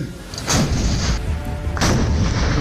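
Two loud booming bursts of gunfire, about a second and a half apart, each trailing into sustained rumble and noise, playing back from a video about India–China border tensions in eastern Ladakh.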